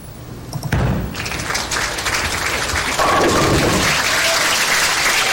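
A bowling strike at a 1997 women's professional tournament: a sharp crash of ball into pins and clattering pins, followed by a swelling wash of crowd applause and cheering that carries on loudly to the end.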